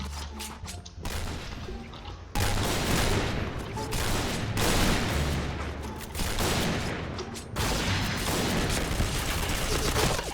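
Dense bursts of automatic gunfire in the shooter game Point Blank, sniper map, loud and near, firing in long overlapping volleys broken by brief pauses, with a faint voice underneath at times.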